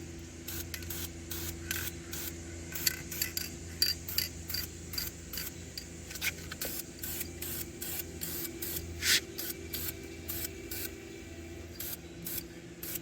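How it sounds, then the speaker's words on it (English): Short bursts of spray paint from a rattle can, applied in flat black behind the grille of a 2003 vehicle, hiss in a quick, steady rhythm of repeated passes, close and fairly quiet against a faint background hum. "Haven't done no rattle can painting in a while"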